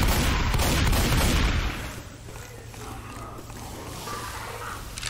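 A heavy, dense volley of gunfire from a new gun in Left 4 Dead 2's Dead Center, a roaring burst for about a second and a half that drops to a softer, rumbling wash of distant noise.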